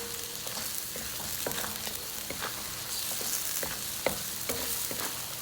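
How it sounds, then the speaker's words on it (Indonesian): Lemongrass, galangal, kaffir lime leaves and bay leaves stir-fry in hot oil for rawon spice paste, with a continuous close sizzle broken by regular scraping stirs and clinks of the spatula. "Terus diaduk-aduk sampai minyaknya keluar dari bahan-bahan ini ya, bumbu-bumbu, dan sampai benar-benar wangi."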